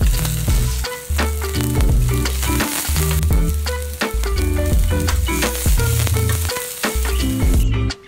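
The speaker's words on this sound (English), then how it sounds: "Next, saute the sliced onion until slightly golden brown." Sliced onion sautéing in a pan after garlic, frying steadily toward golden brown; a continuous loud sizzle runs throughout with regular stirring scrapes and clinks, no voices.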